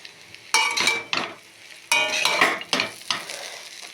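Breakfast frying in a pan, heard as bursts of close sizzling and stirring that swell and fade several times, with light scraping between them and no talk.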